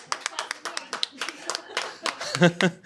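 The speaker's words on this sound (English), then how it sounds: "Everyone applaud" A short burst of clapping from a small group, quick and scattered, with voices and a laugh mixed in near the end.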